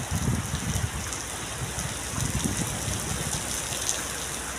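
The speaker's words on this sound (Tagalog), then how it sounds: "Oh my God, ang lakas ng ulan oh." Heavy rain pours steadily in Riyadh, Saudi Arabia, a dense, hissing downpour with patters of drops on surfaces, continuous and close.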